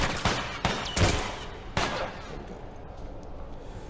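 In The Last of Us: Left Behind, several loud gunshots fire close in an uneven burst, then reverberating game ambience follows, and a voice briefly speaks.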